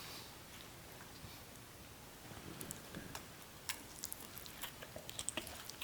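Soft, intermittent crunching as someone bites into and chews a bite of soft butter lettuce, the clicks growing more frequent toward the end, close and faint with no talking.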